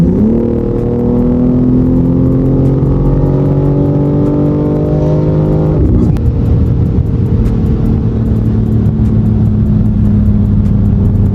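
A 700-horsepower BMW G80 roars under hard acceleration, its engine note climbing steadily, dropping at a gear shift, then pulling again, loud and close throughout with no talking.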